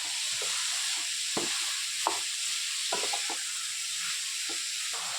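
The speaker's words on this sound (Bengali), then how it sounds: "এখন গাজরটা ভেজে নেব।" Grated carrots fry for carrot halwa, a steady pan sizzle running throughout with brief scraping stir strokes scattered across it, close and fairly quiet, no talking.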